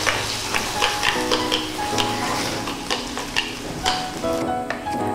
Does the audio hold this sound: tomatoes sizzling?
yes